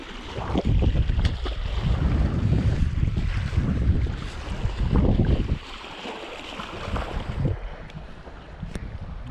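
Gusty wind blows over a reservoir shore where carp fishing is under way, loud buffeting rumbles striking the microphone in uneven surges with quieter lulls between them.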